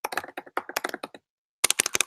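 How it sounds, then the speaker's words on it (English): A computer keyboard is typed on quickly and close by, with a flurry of sharp clicking keystrokes, then a brief pause, then another fast burst of typing. No one talks. "Let me type in my name."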